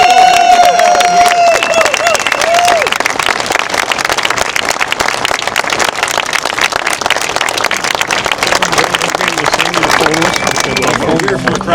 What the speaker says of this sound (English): Can the Howe family wave for some applause?